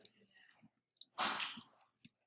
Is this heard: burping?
no